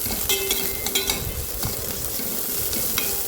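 Brinjal frying in a pan while being stirred, with a steady close sizzle and repeated scraping and clattering strokes of the spoon throughout.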